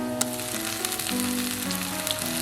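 Two tablespoons of onion paste fry in a pan over already softened onions, giving a bright, continuous sizzle, near and steady, with a faint melodic tone running underneath and no speech.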